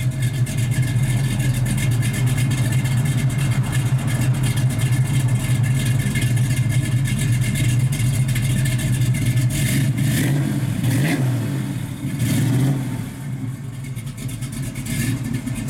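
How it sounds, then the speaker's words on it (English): A 1967 Chevrolet Camaro RS/SS with a big-block V8 and a mild cam, its exhaust rumbling loud and close with steady low throttle, then a few sharp revs swelling and falling near the end. "Sounds real good out the exhaust."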